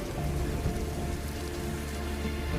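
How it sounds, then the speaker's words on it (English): Rain falling on the African savanna, a dense, steady hiss of drops that holds at an even level throughout, with no voices. "The rains come and go as quickly as a breath, leaving behind a clear sky and parched earth."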